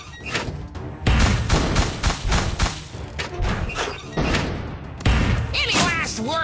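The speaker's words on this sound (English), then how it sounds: "The bomb has been planted! Fire in the hole!" Bomb explosions and rapid battle blasts fill the fantasy tower-defense game Kingdom Rush Vengeance, with loud repeated booms and thuds under character voice lines and game sound effects.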